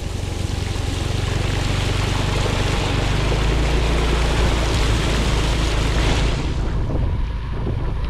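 Floodwater rushing over a road during heavy rain, a loud, continuous roaring wash with wind buffeting the microphone, steady throughout before easing slightly near the end.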